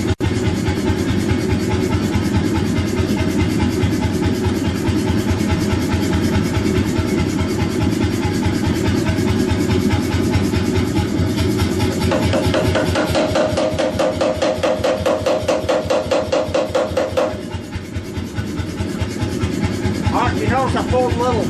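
A steel blade forged under an Anyang power hammer, its rapid, steady blows pounding loudly and continuously up close, with the strike rhythm changing briefly near the end as the hammer eases off.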